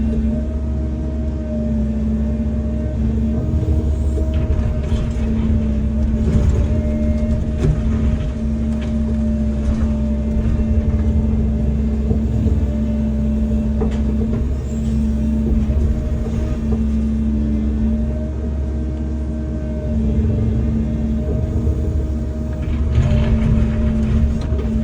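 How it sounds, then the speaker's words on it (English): A Caterpillar 309 excavator with a 3-foot bucket works steadily while loading concrete block, giving a continuous loud diesel rumble with a steady engine drone and occasional scraping and clunking throughout. "the bigger class machine, even though it's still a 3-foot bucket, it's got a lot larger capacity"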